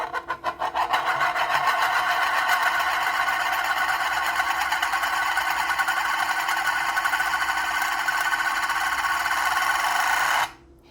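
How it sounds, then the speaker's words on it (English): A coin spinning on a smooth mirror, a close, steady metallic whirring rattle that holds for about ten seconds before cutting off suddenly as the coin settles. "the coin should spin for even longer on the mirror"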